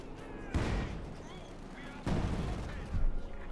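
Artillery bombardment in the Company of Heroes 2 video game, shells fired at a machine gun position: two loud, booming blasts a second and a half apart, each with a rumbling tail, followed by a smaller crack, under a low game soundscape.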